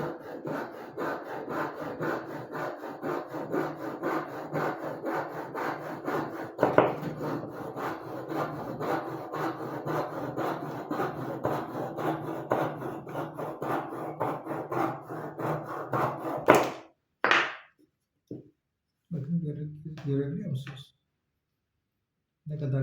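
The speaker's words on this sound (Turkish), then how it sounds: "Şöyle küçük bir testerem var." A small hand saw rasps steadily through wood in quick back-and-forth strokes while making a wooden toy horse, for most of the clip, then stops, followed by a few scattered noises.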